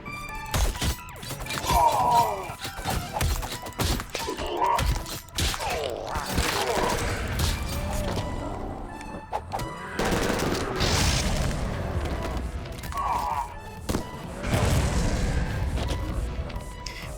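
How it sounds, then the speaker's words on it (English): Enemy artillery bombardment in the game Madness: Project Nexus crashes out in repeated loud booms, gunfire bursts and shattering impacts, dense and chaotic throughout. "It's like artillery bombardment from this guy."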